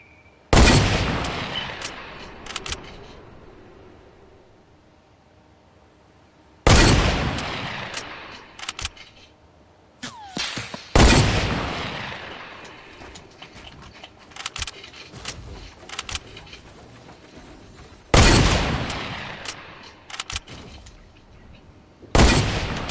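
Gunfire in Fortnite, including sniper shots, with several loud, sharp cracks that each ring out and fade over a few seconds, mixed with lighter rapid clicks and shots in between, no voices over them.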